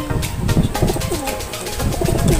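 Several pigeons coo in low, throaty repeated phrases, close by and overlapping, inside a small makeshift enclosure, with a steady background hum and no talking.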